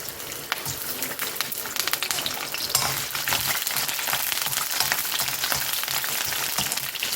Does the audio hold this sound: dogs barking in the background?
no